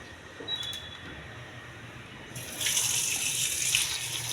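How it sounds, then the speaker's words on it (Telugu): Grapes rinsed under a running kitchen tap, water gushing steadily and loudly from midway on after a quieter start, close by and with no voices. "ట్యాప్ వాటర్ వేసి శుభ్రంగా కడగాలి. 2-3 సార్లు కడగాలి."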